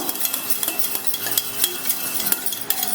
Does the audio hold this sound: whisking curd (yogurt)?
yes